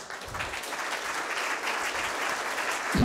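Applause from an audience at a public debate on an energy law, a steady wash of clapping lasting a few seconds, with a faint low voice near the end.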